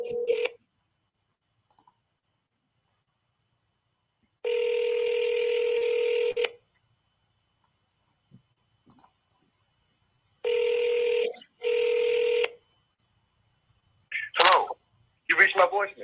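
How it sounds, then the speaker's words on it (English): A phone call being placed: bursts of steady touch-tone dialing and ringback tones repeat with gaps of silence, followed by brief faint clicks and a little distant talk near the end. "You gotta answer the phone, Mike."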